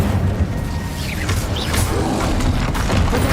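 An Incendio fire spell cast in a Harry Potter video game gives a loud, full whooshing burst with a booming low rumble and crackling layers that run through the clip.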